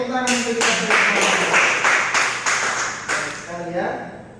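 A classroom group claps hands together in a steady rhythmic series of about eight sharp, close claps, with voices briefly heard at the start and end.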